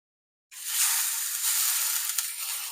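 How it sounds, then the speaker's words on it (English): Beef fillet sears in a hot pan with olive oil, a loud steady sizzle and hiss that bursts in suddenly after a moment of silence and holds strong and close with no voices. "sear in a hot pan with olive oil for 30 through 60 seconds until browned all over and rare"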